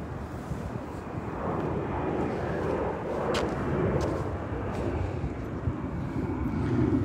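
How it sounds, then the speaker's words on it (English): Military aircraft passing overhead near Kadena Air Base, a steady broad engine roar that stays loud and even throughout, heard from the ground with no talk over it. "There's the military planes."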